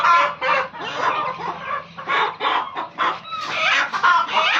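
Richvatam breed hens, up for sale, cluck and murmur in bursts close by, loud and continuous with short pauses between calls.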